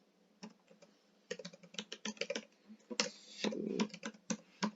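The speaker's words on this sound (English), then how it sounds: "You can type in who you want to send your email to." Keys clatter on a computer keyboard as an email is typed, quick irregular bursts of close clicks with short pauses between, and a single brief spoken word near the start.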